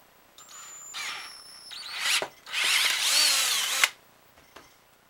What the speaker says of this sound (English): we're going to drill at the back hole here